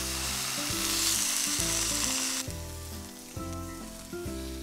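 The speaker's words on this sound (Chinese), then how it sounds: "煎个牛排吧" Steak fries in a pan on a portable cassette gas stove inside a camper van, a continuous bright sizzle that fades slightly partway through, heard over steady background music.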